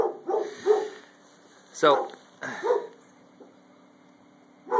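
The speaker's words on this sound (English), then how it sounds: "Besides the dog. Where is he? There he is, barking." A dog barks several times in quick bursts, fairly close, with a brief word spoken at the end against a quiet room hum.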